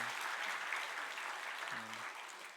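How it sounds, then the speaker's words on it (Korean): A church congregation applauds the children who served in the worship service, a steady wash of many hands clapping at moderate distance, with a brief low tone sounding near the end. "우리가 박수로 한번 격려하도록 하겠습니다"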